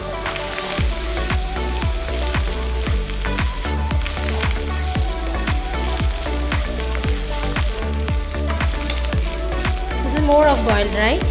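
Boiled rice fries with a steady loud sizzle in a pan while being stirred, with regular scraping strokes of a spoon continuing throughout.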